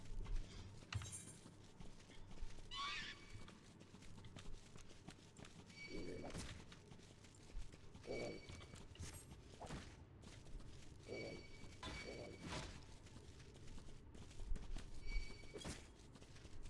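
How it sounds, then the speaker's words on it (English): A mount gallops in Final Fantasy XIV: Shadowbringers, a faint run of hoof clip-clops with scattered game effects and occasional thuds over low background music. "now I can get on my horse and just fucking run for it."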